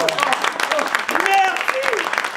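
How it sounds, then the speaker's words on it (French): A live audience claps to welcome a guest onto the stage, brief applause heard under lively talk and exclamations from the people on stage. "On applaudit Babette"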